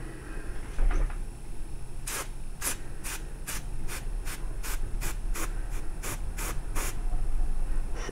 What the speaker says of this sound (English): I'm actually going to try out my new airbrush system